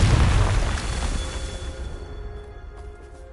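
Confringo blasting spell explosion in Hogwarts Legacy, a single loud low boom at the start that decays into a rumbling tail with faint magical tones ringing over it, no talk.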